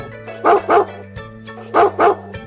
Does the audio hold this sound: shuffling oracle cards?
no